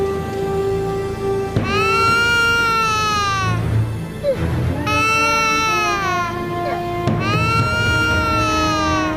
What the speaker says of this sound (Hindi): वहाँ बच्चा भूख से बिलक रहा है